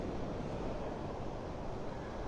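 Rough surf and gusting wind at Vanderbilt Beach in North Naples, Florida, during Tropical Storm Debby at high tide: a steady, broad roar of waves and wind noise that continues without a break and without talk.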